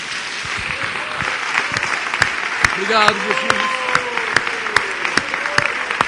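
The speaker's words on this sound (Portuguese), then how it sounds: "Vamos aplaudir ao Senhor." A church congregation claps together during an evening sermon, a steady wash of applause mixed with sharp individual claps, while a voice speaks and sings over it.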